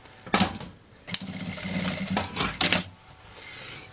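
Sewing machine stitching a cloth bag strap beside the flap, several short whirring runs of needle clatter separated by brief pauses, close and moderately loud.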